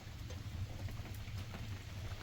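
The first rain falls on the roof of a hut, a faint, even patter of drops heard alone and at low volume.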